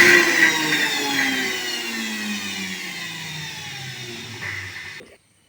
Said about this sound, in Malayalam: ഇനി മിക്സി ഓൺ ചെയ്തിട്ട് വിപ്പ് ചെയ്തെടുക്കണം.